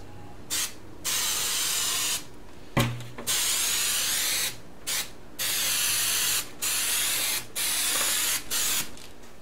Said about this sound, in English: I'm going to spray down the tube with some spray adhesive